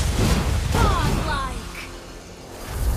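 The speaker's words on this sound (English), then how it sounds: "destroyed a turret!" Turret destruction in the Mobile Legends mobile game: a dense burst of crashing, whooshing game effects with booming impacts, loud and busy throughout, under an announcer-style voice.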